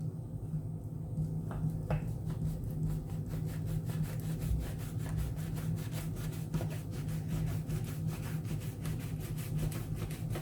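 A knife saws rhythmically through rolled baklava pastry, a quiet, steady scraping and rubbing with fast regular strokes and a low hum underneath.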